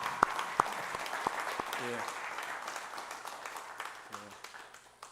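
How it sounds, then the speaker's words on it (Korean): Audience applause at a book launch event, a steady mid-level wash of clapping with a few sharper knocks and a brief spoken voice over it. "나오실 때 한번 박수 한번 합시다."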